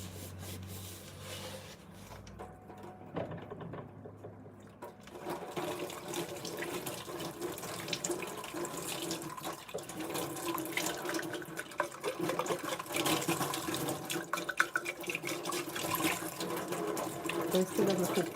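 Tap water runs steadily into a sink while a cup is scrubbed with a Scotch-Brite sponge, a continuous close splashing and rubbing that grows louder after the first few seconds.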